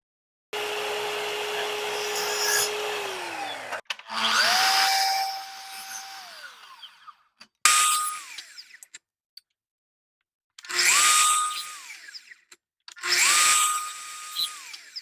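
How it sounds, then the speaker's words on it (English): A miter saw set to 45 degrees cuts miters for a wooden sign frame in five separate bursts, each a loud motor whine that rises, holds and winds down, with a short pause between cuts. "I'm going to go and set my saw to 45 degrees, and all you have to do is cut the miters"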